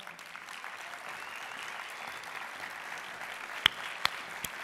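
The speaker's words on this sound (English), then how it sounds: "I'm supposed to ask for another round of applause" An audience applauds musicians who have just performed at a conference general session, a steady, moderately distant patter of many hands lasting throughout, with a couple of sharper individual claps near the end.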